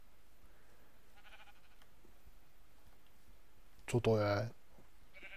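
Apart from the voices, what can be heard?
pink sheep bleating in the video game Minecraft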